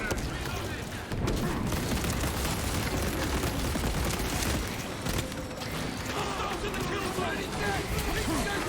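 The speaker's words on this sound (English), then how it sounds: "Frag grenade." Frag grenade blast in Warhammer 40K Space Marines 2, a loud boom about a second in, followed by dense, continuous battle gunfire and rumble with game voices babbling underneath.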